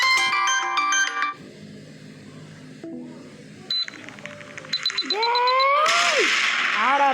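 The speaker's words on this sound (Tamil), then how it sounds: "ஆடா பாவி ஃபோன் பண்ணிட்டாங்களே." A phone ringtone from an incoming call plays as a loud electronic melody with repeated tonal phrases and rising, sweeping notes, ending in a bright burst.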